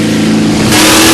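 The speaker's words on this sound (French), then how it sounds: "Le moteur est en fait un V8 Chevrolet qui développe désormais 1400 chevaux." A Chevrolet V8 drag racing car making 1400 horsepower roars loudly and close, its engine note swelling and brightening into a harder rev partway through the short burst.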